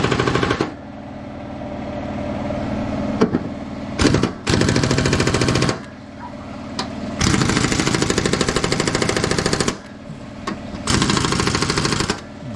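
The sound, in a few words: tool tightening bolts on ride-on mower blades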